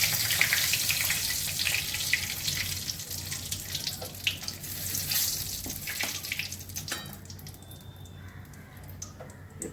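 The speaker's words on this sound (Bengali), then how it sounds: "শুকনো লঙ্কা ফোড়ন করছি।" Dried red chillies sizzle in hot mustard oil in a home kitchen pan, a steady loud hissing crackle that runs throughout and eases toward the end, with no talk.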